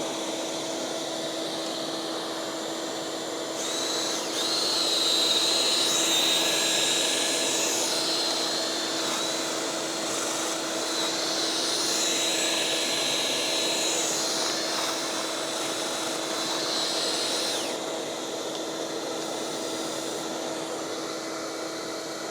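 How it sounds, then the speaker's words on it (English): A vacuum runs steadily while cleaning a dryer vent from the outside, a continuous whirring drone with a whine that rises and falls as rods and hose move through the duct. "Turn on our vacuum."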